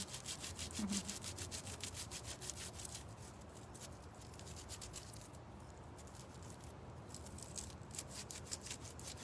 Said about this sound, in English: this table is destroying the sandpaper